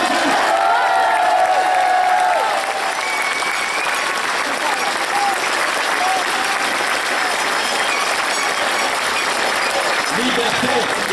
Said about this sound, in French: Nous les soutenons par nos applaudissements.